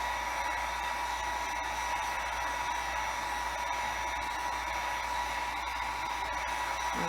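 A heat tool on low heat blows steadily and continuously while drying a photo print, a loud even whoosh with a faint high whine, no speech.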